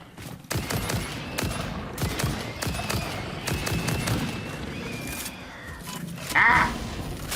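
A player's gun fires in Satisfactory during a fight, repeated sharp shots in an uneven rapid string, fairly close and loud, with some brief grunting and creature noises mixed in.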